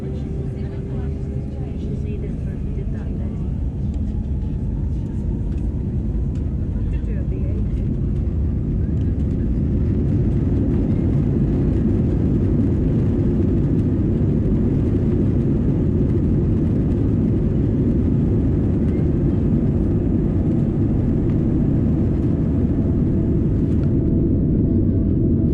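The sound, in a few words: British Airways Airbus A320 jet taking off from Heathrow runway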